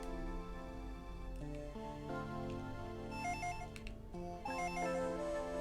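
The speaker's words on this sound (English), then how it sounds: "The phone is ringing in the living room." Telephone ringing in a living room in the Game Boy Advance game Dragon Ball Z: Legacy of Goku 2, a chiptune ringtone of repeated electronic tones mixed with game music, no voices.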